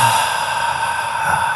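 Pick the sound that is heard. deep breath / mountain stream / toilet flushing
deep breath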